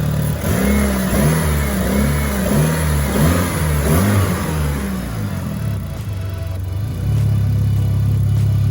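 A Mitsubishi Evo 8 engine revs in a quick rhythmic series of rises and falls, then settles into a steady, loud exhaust burble, close by with no talking.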